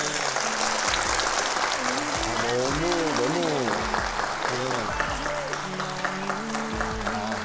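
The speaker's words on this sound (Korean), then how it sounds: "박수 한 번만 주시죠" Studio audience applause on a Korean talk show, a steady dense wash of clapping throughout, while a voice talks and calls out over it with rising and falling tones.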